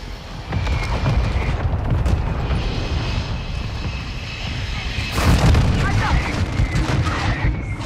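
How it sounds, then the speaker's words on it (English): Mortar strike in Call of Duty: Modern Warfare II: heavy explosions and rumbling booms over a droning aircraft-like wash, with a strong blast near the middle, loud and dense, and voices talking throughout. "Mortar strike inbound."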